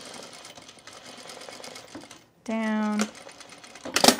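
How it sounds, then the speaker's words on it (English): A sewing machine stitches a pocket opening in one short, loud, rapid burst of about half a second, with quiet handling noise before it and a voice speaking briefly nearby. "I'm going to stitch a little"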